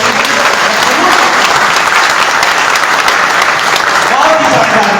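Loud, sustained applause from an audience at a live public gathering where government pension reform (UPS versus OPS) is discussed, dense clapping filling the whole stretch with some crowd noise mixed in.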